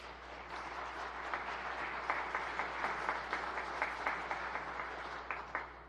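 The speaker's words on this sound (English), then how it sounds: "All right, some claps over here." Scattered audience applause breaks out during the Michigan governor's State of the State address: a thin, fairly distant patter of individual claps that swells in small bursts without cheering or speech.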